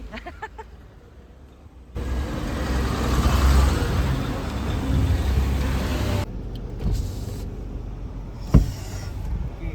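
Heavy road traffic on the route to the Medaram Jathara festival, heard from inside a car: a steady broadband rumble of engines and tyres that swells after a quieter start, then eases, with a brief sharp knock near the end.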